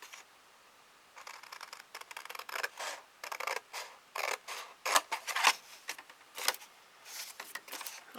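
Scissors snipping through material for a small spring-themed wooden frame display, a long run of faint, close crisp cuts in irregular bursts, with no talking.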